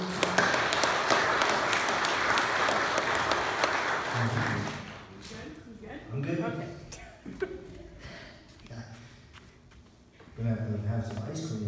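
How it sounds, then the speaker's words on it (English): A church congregation bursts into loud applause for award recipients during a service. The clapping is dense for about four seconds and then cuts off, leaving voices talking quietly with light laughter. "So let's give them a round of applause."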